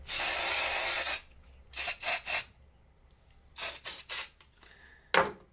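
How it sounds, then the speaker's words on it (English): Texture spray spritzed onto lifted hair: one long hiss, then three quick bursts, another group of three, and a final short spray, close and crisp. "Now I think we're ready for some texture spray and some root clipping."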